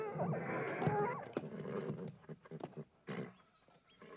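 A spirited mustang neighs and whinnies in a Western ranch setting, with a loud, wavering call in the first second or so, followed by scattered snorts and hoof-like thumps that fade toward the end.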